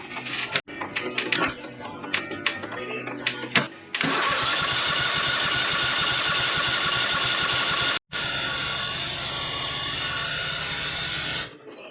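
A Kohler Pro V-Twin 22 hp engine on a Craftsman GT6000 mower, with a suspected faulty carburetor solenoid, is handled with clattering first. It then cranks and catches into a loud, steady, close running drone, cuts out briefly and restarts.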